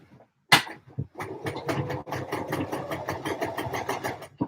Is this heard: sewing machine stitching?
yes